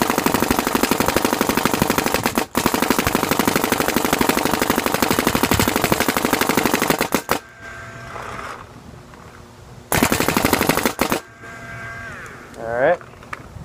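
A tuned Planet Eclipse GSL paintball marker fires in long, rapid, loud bursts of dense pops, stopping briefly, then firing again for another short burst, with someone talking in the pauses.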